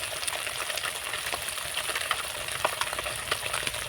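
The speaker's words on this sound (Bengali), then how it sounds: "আমার কড়ার তেল গরম হয়ে গেছে মাছগুলো আমি দিয়ে ভালো করে ভেজে নেব" Fish fry in hot oil in a wok, sizzling and crackling steadily with small popping spatters, close up and fairly quiet, with no talking.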